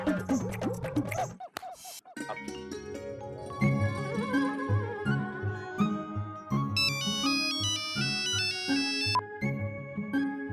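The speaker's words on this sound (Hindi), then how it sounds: "क्यों बार बार फोन कर रही हो कोयल?" A melodic phone ringtone plays loudly, a looping electronic tune with bright high notes over a steady beat, no voices.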